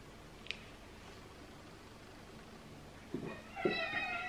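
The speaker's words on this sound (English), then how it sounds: "Oh my goodness, these cats. Hey, stop fighting." Two cats squabble at close range, giving a short sharp cry and then a couple of drawn-out meows near the end, fairly faint over a quiet room.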